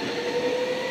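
VIRM double-deck electric trains pull out of Arnhem Centraal station with a steady rolling rumble and a thin sustained whine from the wheels, close by and continuous.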